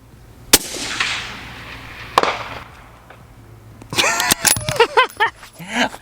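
A precision rifle shot fired at a target during PRS shooting cracks sharply once, loud and close, followed by a fainter second report and then jangling metallic rattles.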